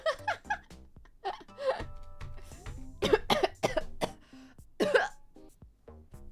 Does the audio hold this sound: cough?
yes